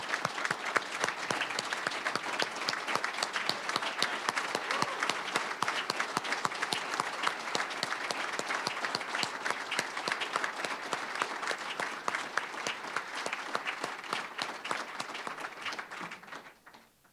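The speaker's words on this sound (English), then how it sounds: "Please join me in recognizing their academic excellence with your applause." At a student honors banquet dinner, the audience applauds honor students with a long, lively round of clapping that holds strong for about sixteen seconds before tapering off at the end.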